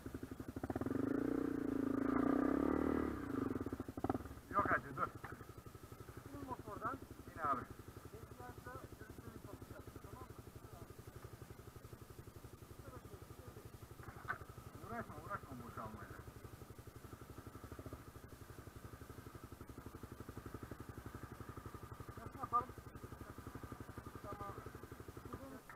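An enduro motorcycle engine on a dirt trail gives a loud low roar at the start, then settles into a lower idle with occasional throttle blips and clatter, while riders talk nearby.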